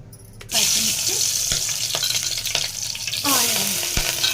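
Green chilies sizzle in a pan of hot oil after a quiet start, with a steady loud frying hiss, scattered clinks and scrapes of stirring.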